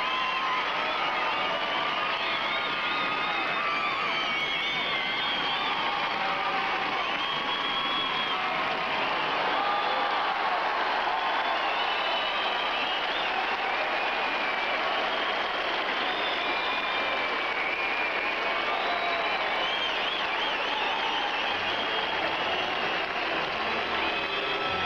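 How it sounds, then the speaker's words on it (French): Warm, sustained applause from a large audience carries on for a long stretch, mixed with cheering and shrill whistles, steady and full throughout. "on l'applaudit chaleureusement"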